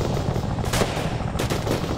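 Gunfire in the video game ARMA 3: a steady, loud rattle of automatic fire with a couple of sharper cracks standing out, continuous and fairly close, with no voices over it.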